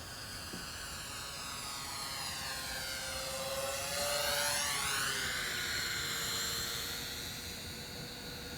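A Parkzone UM Mosquito Mk VI model airplane flies past with a thin, high whine. It swells as it nears, peaks close by, then drops in pitch and fades as it moves away, with no talk.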